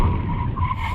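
Tires on a Tesla Model Y skid and squirm under hard braking during a drag race against a Porsche Macan GTS and BMW X3 M40d, a steady close rumbling scrub lasting about a second.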